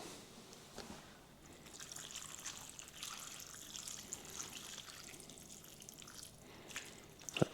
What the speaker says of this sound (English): Then we're gonna add just enough water to cover it.